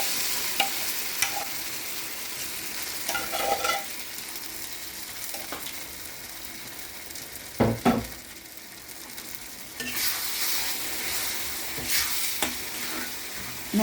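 Moong dal and fenugreek leaves tipped into a sizzling oil tempering and stirred, a steady frying hiss broken by bursts of scraping and clatter from the spoon, close and fairly loud.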